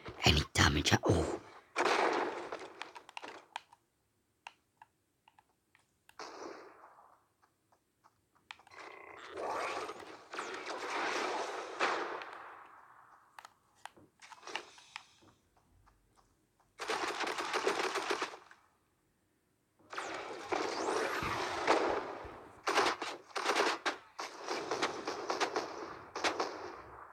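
Rapid video-game gunfire in a fight against a mech, loud bursts of shots in several long stretches with short gaps between them, close and dominating the sound, with no talking.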